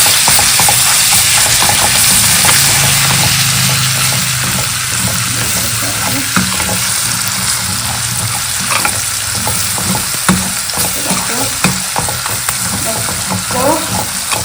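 Ground masala paste fries in oil with a loud, continuous close sizzle, broken by intermittent scraping and stirring taps over a long stretch, with no voices.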